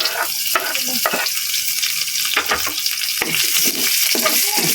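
Onion pieces dropped into garlic already sautéing in a pan for a Filipino pork stir-fry, giving a steady loud sizzle with crackling bursts and a few stirring scrapes, no talking.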